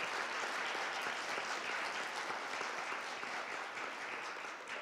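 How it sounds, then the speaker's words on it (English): Audience at a school board of education meeting applauding students, a sustained, even wash of clapping heard alone at moderate loudness for several seconds. "can everyone give these students a great round of applause"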